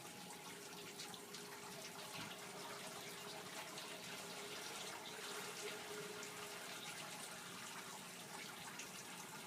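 Water pours and fills steadily in a soils lab, a continuous faint rushing wash with no breaks and no talking.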